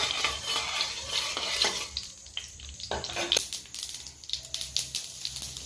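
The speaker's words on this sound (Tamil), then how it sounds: "சீரகம் நல்லா பொரிஞ்சிருச்சு." Cumin seeds and curry leaves sizzle in hot oil after mustard seeds have popped, the start of a Tamil egg curry: a close, steady crackling hiss broken by scraping spoon strokes and light metal clinks as the pan is stirred.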